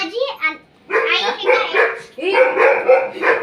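Dogs barking and yipping nearby in short bursts, mixed with voices talking.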